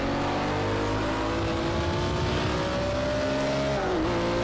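A BMW M1 Procar engine at Brands Hatch in Project Cars 2, revving steadily and climbing in pitch as it accelerates, loud and close, with a brief dip near the end.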